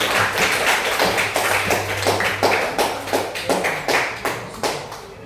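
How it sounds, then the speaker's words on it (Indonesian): Students in a classroom clap for the first group after its presentation. The clapping is loud and close, in uneven bursts that fade in waves, with no talk over it. "Tepuk tangan kepada kelompok 1 sudah memprestasikan hasilnya."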